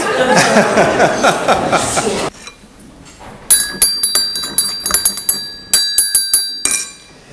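Tea room sounds for a stage play: a burst of murmuring chatter and laughter gives way to bright, repeated clinks of china and glass ringing out in quick clusters.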